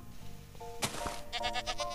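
Sheep and goats bleating in a Minecraft-like block game, a couple of short quavering calls close together over low background music.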